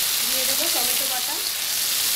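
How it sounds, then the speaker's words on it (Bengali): A ground ginger, green chili and tomato paste spice mix fries in a pan with a loud, dense sizzle throughout, while a faint tonal whine rises and falls underneath. "এবার একসঙ্গে এই দুটোকে ফ্রাই করে নিতে হবে।"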